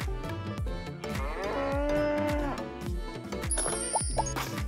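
A cow moos in a long, loud, drawn-out call over a bouncy children's music backing, with faint chimes near the end.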